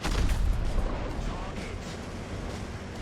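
A T-84 Oplot-M tank's cannon fires in War Thunder, a dense booming rumble that is loudest at the start and then fades into a sustained low roar, with a voice speaking over it.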